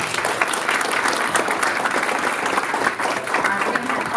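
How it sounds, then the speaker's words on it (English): An audience at a Louisiana higher education forum claps warmly and steadily for a panel, a close, dense wash of applause with faint crowd murmur underneath. "Let's give them a round of applause."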